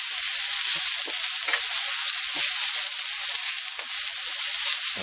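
Onions frying in a pan for Salisbury steak gravy give off a steady, close, dense sizzle with small crackles and pops, heard alone for the whole stretch with no talking.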